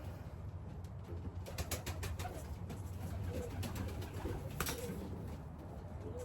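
Young racing pigeons in a loft coo steadily and softly, with a continuous low murmur of several birds and a few sharper flutters over a constant background.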